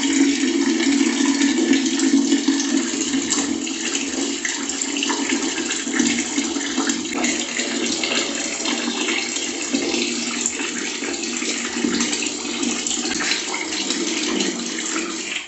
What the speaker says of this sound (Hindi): इस साइड वाला जहाँ गीजर लगाया है वहाँ से गर्म पानी आता है, तो इसे मैं टर्न करता हूँ